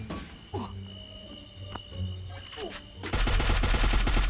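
Gunfire in the Free Fire mobile battle royale game, with scattered shots early and then a rapid, loud burst of automatic fire near the end, beneath ambient game sounds.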